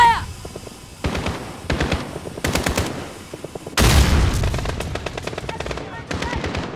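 Call of Duty gunfire cracks in rapid machine-gun bursts and single shots, loud and near with heavy volleys. Shouting voices come through between the bursts.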